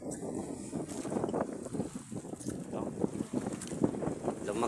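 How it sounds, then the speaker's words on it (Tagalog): Strong northeast amihan monsoon wind buffets a small boat out at sea, a steady rushing roar with gusty microphone buffeting and water movement throughout. "Lumakas yung hanging amihan."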